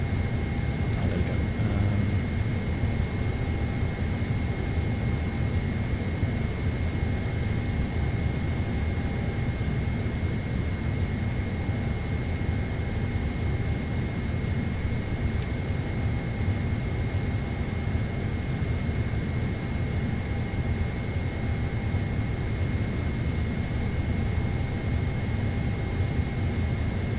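Airliner engines of a PMDG 777 spooling up in MSFS 2024 with Boris Audioworks sound sets, a steady deep roar and broadband rush holding constant throughout, with a faint high tonal whine above.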